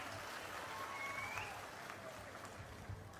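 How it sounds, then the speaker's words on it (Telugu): Faint audience applause at a political rally, a steady patter of many hands clapping that sounds distant and fills the whole moment with no clear voice over it. "బాగున్నాయంటే చప్పట్లు కూడా చెప్పండి బాగున్నాయని."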